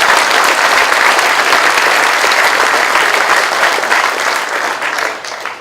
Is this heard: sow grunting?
no